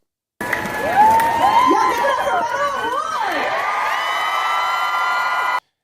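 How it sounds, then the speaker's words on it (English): A large outdoor protest crowd in Houston, Texas, at an anti-NRA rally roars with sustained cheering, whoops and shouts as Beto takes the stage, loud and continuous throughout. "the crowd goes wild as Beto takes the stage at the anti-NRA protests in Houston"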